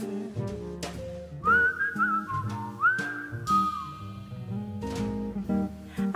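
A short whistled tune in a song, bright sliding melodic notes held over a full band with bass and percussion, carried alone for a few seconds without singing.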